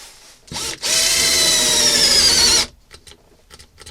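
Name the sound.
drill boring into wood with brad point bit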